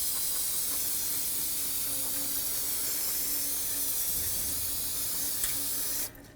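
A continuous close hiss of aerosol cleaner sprayed onto the brake hub of a GMC Sierra pickup lasts several seconds at steady strength, then cuts off abruptly near the end.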